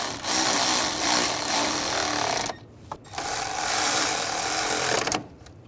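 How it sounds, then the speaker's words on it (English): Power tool driving the top radiator fan bolts tight on a 2013-2016 Dodge Dart, two loud sustained bursts of whirring, rattling noise split by a short pause, then a brief stop near the end. "we'll just tighten those two top bolts down"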